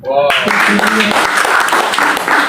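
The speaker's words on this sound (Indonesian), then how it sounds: "Tepuk tangan buat ibu-ibu" Applause for the mothers breaks out at a church prayer service in Jakarta, a dense, steady wash of clapping from a congregation. It starts abruptly and holds loud and even to the end, with no clear talk on top.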